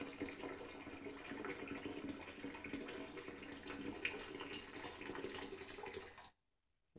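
Steady rushing pour of boiled water splashing into a toilet bowl to clear a clog, continuous and fairly close for about six seconds, then it stops abruptly.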